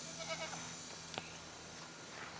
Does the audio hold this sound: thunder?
no